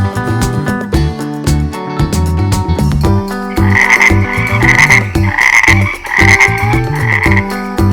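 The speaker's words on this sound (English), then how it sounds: "Ribbit! It's a frog!" A frog croaking in a dense, loud chorus of repeated rhythmic croaks layered with musical tones, several seconds long with no talking.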